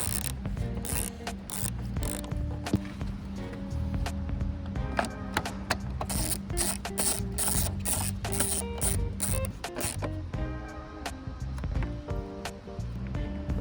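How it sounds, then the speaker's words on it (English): Repeated mechanical ratchet clicks from a hand ratchet tightening bolts on a reverse light frame of a GR86/BRZ, a steady dense run of close, loud clicking with no talking. "Now we secure the bolts and install the frame."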